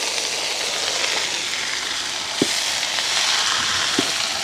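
Washed snake gourd with onion and green chili fries in a pan, giving a steady, even sizzle throughout, with a couple of faint clicks of stirring near the end.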